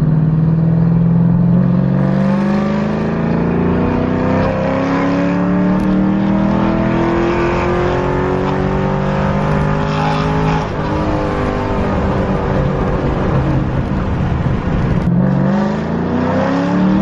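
A cammed Ford Mustang GT with a custom tune and over 400 horsepower accelerates hard in a straight line from 2,500 to 6,500 RPM. The loud engine note climbs steadily in pitch through one sustained pull, then drops sharply near the end.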